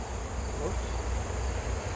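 Honey bees buzz around an opened hive, a dense, steady drone of many insects close by with a faint background hum throughout.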